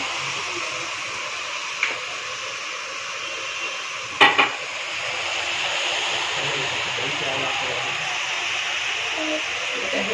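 Spices with turmeric and salt frying in a pan: a steady soft sizzle with a few sharp clinks of a spoon against the pan, heard alone without talk.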